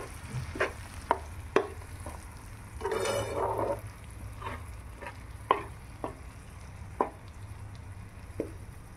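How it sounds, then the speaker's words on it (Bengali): Cabbage fries slowly in a pan with a soft sizzle, broken by repeated scraping stirs and sharp clicks of a spatula against the pan, plus one longer rustling stir near the middle. "এবার এটা আস্তে আস্তে ভাজা হবে"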